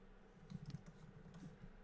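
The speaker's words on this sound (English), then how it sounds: "I'm typing something out." Quiet typing on a computer keyboard, a short run of soft, uneven key clicks in a small burst, faint and close, with no speech over it.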